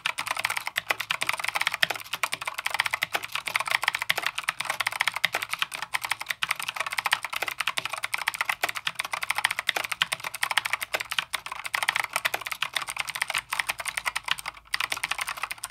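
Rapid, continuous clicky typing on a RAKK Kimat XT.2 mechanical keyboard with Gateron Blue switches, close and crisp, with a steady clattering rhythm and no talking.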